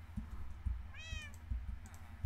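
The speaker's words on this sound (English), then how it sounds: "There's a kitten." A kitten in the Minecraft video game gives a single clear, rising-and-falling meow in the middle, heard over soft keyboard typing and clicking.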